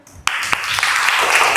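A classroom of pupils bursts into applause after sudden silence, a dense, steady clapping that holds close and loud to the end.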